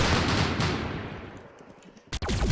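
Rapid gunfire from the Roblox shooter Arsenal, a dense loud burst of shots that tapers off, then a couple of sharp close cracks near the end, with no voices.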